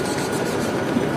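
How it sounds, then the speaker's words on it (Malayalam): Busy railway station ambience at CSMT in Mumbai, a steady broadband rumble of trains and crowd noise that stays even and loud throughout with no distinct events. "CSMT railway station"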